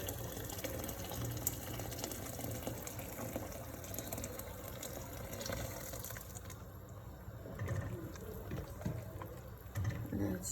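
Water pours into a cooking pot while a pasta dish is being made, a faint, steady rushing flow that runs the whole time. No one talks.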